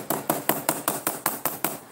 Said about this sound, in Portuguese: Pode usar uma marreta, que é até melhor, pra ter mais força.